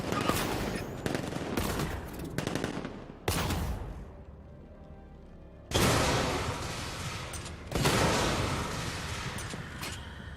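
Bursts of rapid automatic gunfire aimed at a car in the video game Batman Arkham, loud and close, several long volleys separated by brief quieter gaps with a low rumbling background.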